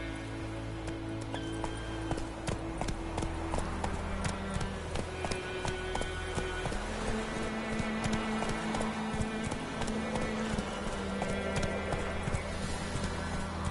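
Horse hooves gallop in a steady, rapid clip-clop rhythm throughout, ridden across open ground in the fantasy game Witcher 3, with a continuous backdrop of game music and ambience beneath the hoofbeats.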